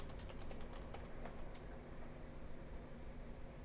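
Quick bursts of computer keyboard typing, fast key clicks clustered in the first second and a half over a quiet hum of room or fan noise, then only the hum.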